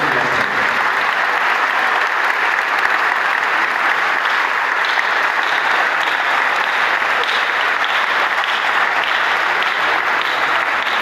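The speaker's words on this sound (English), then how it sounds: "We have to stand up and give him a sound round of applause for a job well done." A standing crowd applauds in tribute to a king, with dense, steady clapping that stays loud and even for about eleven seconds.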